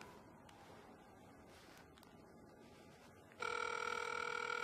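A phone ringback tone plays over speakerphone during a Wi-Fi call placed through an Android calling app, starting suddenly after a few seconds of quiet room hush and continuing as a steady, loud electronic ring.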